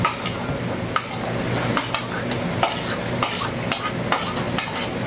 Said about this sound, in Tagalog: Lagay na natin kaili ang ating sibuyas.